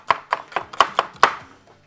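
Onion sliced with a knife on a cutting board while making a shrimp tagine, six sharp, evenly spaced chops that fade into a couple of faint final taps, with no voices.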